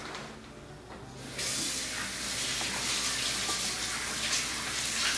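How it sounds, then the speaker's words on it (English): Water gushes from a kitchen tap as hands are washed after handling masala-coated chicken drumsticks, a steady close rushing spray that starts abruptly after a quiet moment and keeps running. "So I'm just going to wash my hands."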